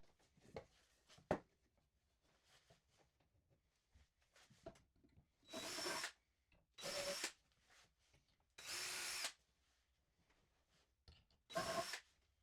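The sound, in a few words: power drill pre-drilling and driving screws into wood bench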